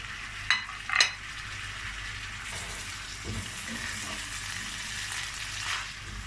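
Washed rice being toasted in a pan for chestnut pilaf, a soft continuous sizzle with a couple of sharper spoon knocks early on and light scraping afterward.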